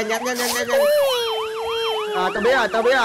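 An ambulance siren wails loudly in a steady rising-and-falling sweep at a street intersection, close by, with brief speech over it at the start and end.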